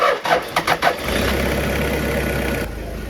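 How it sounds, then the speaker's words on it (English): An old, previously abandoned Toyota Hilux under rebuild starts up nearby. A few quick cranking pulses lead into the engine catching and settling into a steady, loud idle. "Now we're going to start the car."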